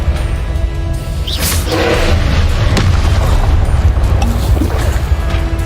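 Confringo blasting curse going off in a Hogwarts video game: a loud, sustained rumbling boom with whooshing bursts layered on top, close and continuous for several seconds.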